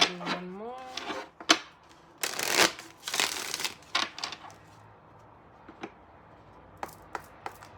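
A tarot card deck being shuffled up close in crisp bursts of riffling and flicking cards, with a short voice near the start and quieter card taps toward the end.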